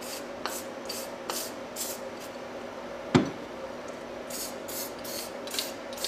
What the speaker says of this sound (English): using our chain wax or some other liquid to solid setup wax, spray the areas of contact with the bushing to prevent squeaks